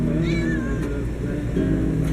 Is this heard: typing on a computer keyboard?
no